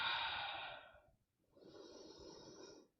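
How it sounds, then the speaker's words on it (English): A slow, deep in-breath during a yoga wheel session, audible and close, followed after a short pause by a softer, breathy exhale. "Let's take a breath in."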